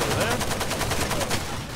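Rapid automatic gunfire from a heavy-recoil weapon in Far Cry 2, a dense burst of repeated loud shots continuing throughout, with a voice faintly underneath.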